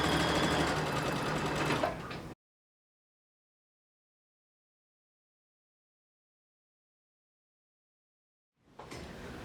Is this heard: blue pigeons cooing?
no